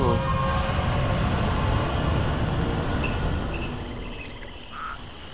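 A train rumbles along in the shooter game Crysis Warhead, a dense, continuous rolling roar that slowly eases and quietens as it slows, with faint scattered sound effects on top.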